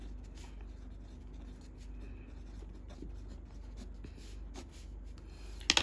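Chalk or marker scratching across a board as a maths problem is worked out, a steady run of short rubbing strokes with a few sharp taps near the end, with no talk.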